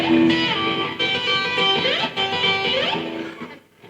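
A slow take of an electric guitar lick, held ringing notes joined by audible upward slides, steady and upfront for about four seconds before fading out, with no talking.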